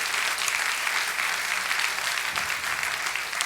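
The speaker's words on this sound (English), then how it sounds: "Just give them another round of applause." An audience at an Askwith Forum event applauds three presenters with dense, continuous clapping that stays loud and steady from start to finish.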